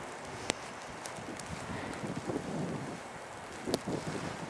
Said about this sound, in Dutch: Ik hoor de wind giert door de bomen.